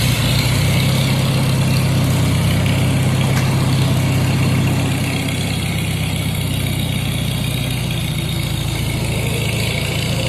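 A small tractor engine idles steadily and loudly, a constant low rumble with a mechanical rattle, close by and unchanging.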